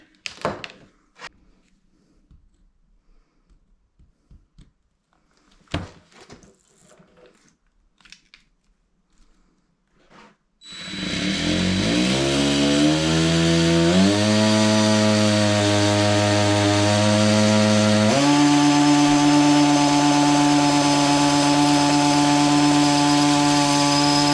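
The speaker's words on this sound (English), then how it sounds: "So I'm going to get on and get that hole drilled." A power drill bores a hole for the plug of a custom RGB neon LED backlit sign. After about ten seconds of near silence it starts with a loud, steady whine that steps up in pitch several times and runs to the end.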